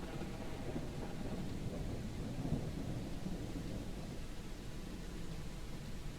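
Steady rain with rolling thunder in the video game Junkpunk, a constant dense wash of downpour with low rumbles swelling beneath it, no voices.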